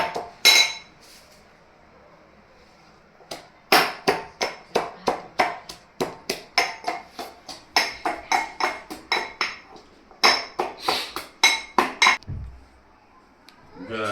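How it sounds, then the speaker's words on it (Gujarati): Garlic being crushed in a kitchen, heard as bursts of sharp, rapid pounding knocks with metallic clinks, close up, separated by short pauses. "જો લસણ આ રીતના કૂટડી લેવાનું।"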